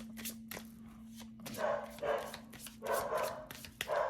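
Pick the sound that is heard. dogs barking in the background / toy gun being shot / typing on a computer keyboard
dogs barking in the background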